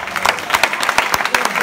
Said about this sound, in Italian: facciamo un grandissimo applauso